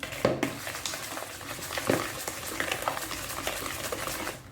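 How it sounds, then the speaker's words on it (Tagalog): A spoon stirs the batter for binangkal, fried sesame bread balls, in a bowl: close, continuous wet scraping and mixing with a few sharper knocks against the side. "Paghaluin maigi."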